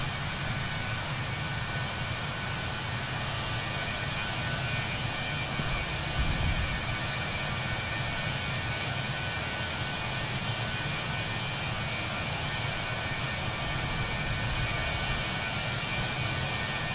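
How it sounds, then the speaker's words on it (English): A PMDG 737-800 jet approaches in Microsoft Flight Simulator 2020, a steady and unbroken drone of engine and airflow noise that holds at an even level throughout, with no voices. "So that's the PMDG 737-800 that comes to us."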